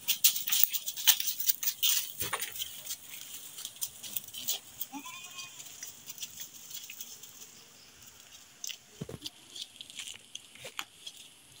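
Goats and sheep bleat on a small goat and pig farm, several short calls scattered over a busy background of rustling, patter and movement, some near and some farther off.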